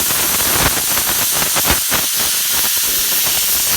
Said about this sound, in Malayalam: ആവി പുറത്തേക്ക് പോയാൽ മാത്രം കുക്കർ തുറക്കണം കേട്ടോ